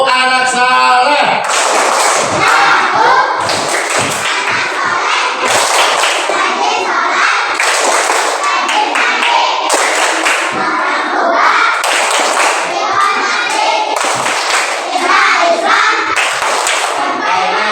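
Schoolchildren in a fifth-grade Islamic religion class stand and clap the Indonesian 'tepuk anak saleh' chant, a loud, steady run of rhythmic group hand claps with young voices chanting along throughout.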